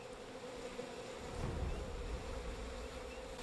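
Bees buzzing in the video game We Happy Few, a steady, fairly faint insect drone that holds without a break from start to end over a soft wash of ambient noise.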